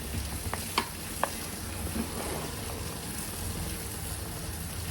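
Ground masala paste stirred into cooked mutton in a pot for a spicy Agri mutton curry, with a steady soft sizzle and a few sharp clicks of the spoon against the vessel near the start.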